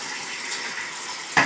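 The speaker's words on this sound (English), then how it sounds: "I'm just going to go and wash my hands first." Tap water runs steadily into a sink while hands are washed, a continuous close hiss and splash with a brief louder gush near the end.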